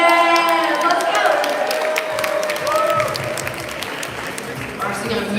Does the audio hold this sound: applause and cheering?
yes